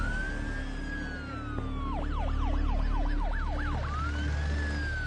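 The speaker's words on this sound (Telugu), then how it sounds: "ఇటువైపు నుంచి అంబులెన్స్ వెళ్తుంది" An ambulance siren wails nearby, sweeping through a rapid rising-and-falling yelp before returning to a slower wail, over steady traffic rumble.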